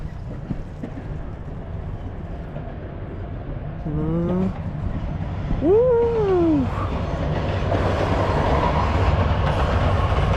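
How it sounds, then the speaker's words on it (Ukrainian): A Kyiv–Rakhiv express passenger train runs past in the Carpathian resort of Vorokhta, a steady rumbling wash with a horn-like tonal call rising in the middle, close and sustained throughout. "Швидкісний потяг."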